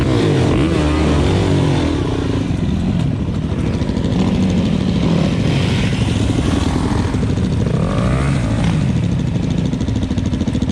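A Yamaha WR450F dirt bike engine runs loud and close throughout, a steady rough roar with slight rises in revs and no pauses.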